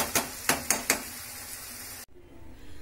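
Meat for chicken kosha is stirred in a pot with four sharp metallic scrapes of a spatula against the pot in quick succession, followed by a quieter steady sizzle that cuts off abruptly.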